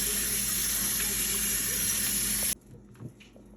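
Running cold tap water splashes loudly and steadily over fish being washed, then cuts off abruptly, leaving a few faint drips and soft handling sounds.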